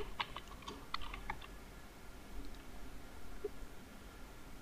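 Several quick keystrokes clatter on a computer keyboard in a short burst near the start, then a couple of isolated taps follow against a quiet room background.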